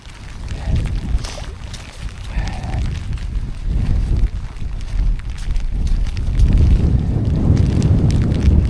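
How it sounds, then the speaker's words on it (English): Light wind blows steadily outdoors on a hilly moorland walk, a continuous low rushing and buffeting that grows slightly stronger toward the end, with no talking. "This is actually light wind down here."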